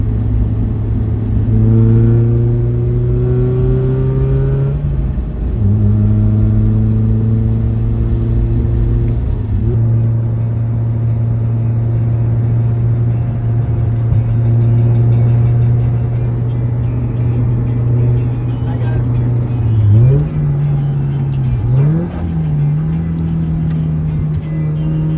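A manual Toyota Celica drives along with a steady engine drone that rises in pitch, drops at gear changes and climbs again, loud and continuous with no talking.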